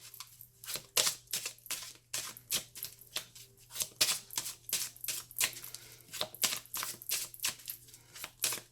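Tarot cards shuffled in the hands for a daily reading, a fast run of crisp riffling snaps and slaps repeating steadily and close by, with no talking.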